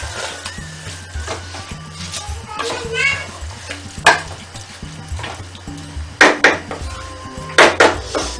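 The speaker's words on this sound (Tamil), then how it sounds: "நான் இது நல்லா கிளறி விட்டுறேன்" Basmati rice being stirred in a cooking pot, giving scattered scraping and clinking of a utensil against metal with a few sharper knocks, under a low steady background hum.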